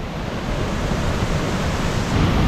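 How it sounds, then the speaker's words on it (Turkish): Steady broadband roar of a large waterfall's rushing water, loud and continuous with no pauses, heard alone without voices. "bayağı büyük bir şelale"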